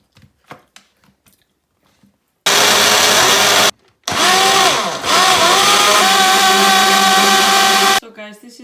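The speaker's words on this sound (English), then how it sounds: "Then I'm going to grind till this smooth." An electric grinder blends chutney with lime juice, a loud continuous whirring roar in two long bursts with a brief pause between, pitch shifting as the paste smooths, after quiet kitchen sounds.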